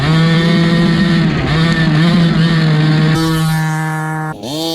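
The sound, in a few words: gas-powered RC monster truck engine running at half throttle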